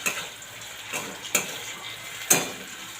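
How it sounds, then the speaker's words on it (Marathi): Potatoes fried in a pan and stirred to keep them from sticking or burning, for batata kanda pohe, with a soft steady sizzle broken by three sharp spoon scrapes and clinks against the pan. "सतत असं बटाटा आपण हलवत राहायचं, म्हणजे बटाटा खाली लागणार नाही आणि करपला जाणार नाही."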